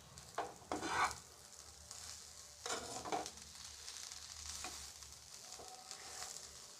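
Sambar vadi filling is stirred in a pan on a low flame, giving a soft, steady sizzle with intermittent scraping strokes of the spoon, close and fairly quiet.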